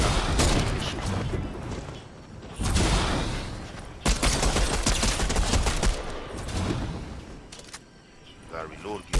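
Gunfire in Fortnite, rapid bursts and single shots in quick succession, loud and close, with a short lull before more shots near the end; a voice talks over it.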